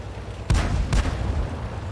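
Artillery shells striking a tank in World of Tanks, two heavy booming impacts about half a second apart, loud and close, with a rumbling tail.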